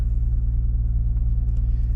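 A Kia Stinger's engine idling steadily while parked, a loud, close, even low rumble with a regular pulsing throb and no voices.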